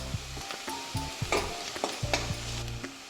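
Red chili powder and asafoetida sauté in hot oil in a pan, with a steady sizzle and repeated spoon scrapes and stirs in an uneven rhythm, close up and with no talk.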